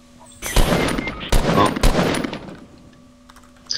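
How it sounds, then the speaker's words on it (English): Rapid bursts of automatic gunfire in the video game Fortnite, three loud volleys in close succession with short gaps between them, and no talking over them. "Oh, they're shooting at me, guys."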